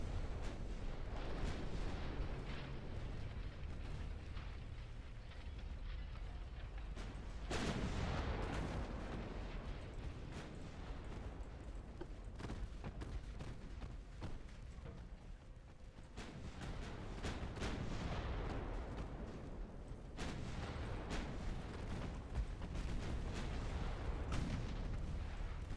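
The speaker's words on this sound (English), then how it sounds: "Fire the guns!" Heavy warship guns, including 9-inch naval guns, fire in the naval strategy game Ultimate Admiral Dreadnoughts, with loud booming salvos and rolling blasts layered continuously over a constant rumble.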